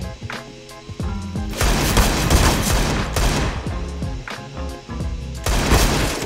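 Desert Eagle pistol gunshots in the video game CS:GO, repeated sharp loud shots in quick succession mixed with other gunfire from the match, no talking.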